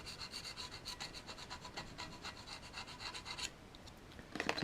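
A blade scrapes an old gasket off a motorbike engine's mating surface in light, rapid, rhythmic strokes, close and fairly quiet, with a brief louder scrape at the end.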